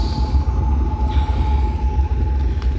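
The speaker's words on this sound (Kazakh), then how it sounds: "бүгінгі біздің шығарылымыз Түркістан-Павлодар пойызы" The Turkistan–Pavlodar express passenger train of 2023 gives a steady, loud, low rumble with a constant whine riding on top, continuous throughout and without any voices.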